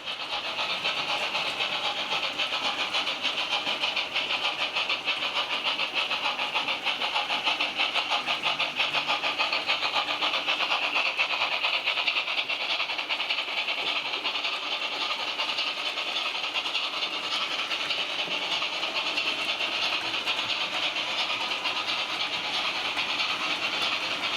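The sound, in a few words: model locomotive running on track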